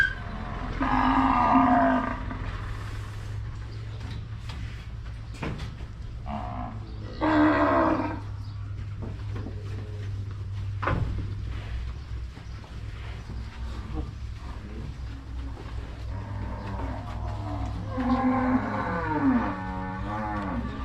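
Cattle at a livestock market in Wang Prachop, Tak, low repeatedly with loud, throaty moos near the start, middle and end, mixed with nearby voices talking and a constant background hum.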